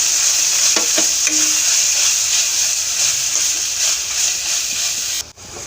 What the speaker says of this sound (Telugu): ఇప్పుడు మొత్తం కలిసేటట్టు తిప్పుకోవాలి.